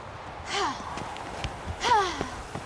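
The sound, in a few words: heavy breathing while running, from video game The Witcher 3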